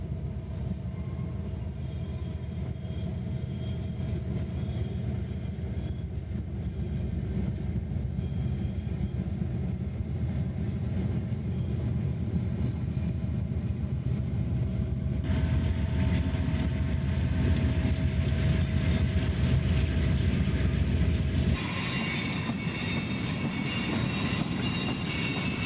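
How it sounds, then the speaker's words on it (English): Southbound Conrail freight number 6066 rolls past on the Monongahela Railway in 1990, a steady loud rumble of cars and wheels with squealing, shifting in tone as the train continues by. "a southbound Conrail, number 6066, makes an appearance"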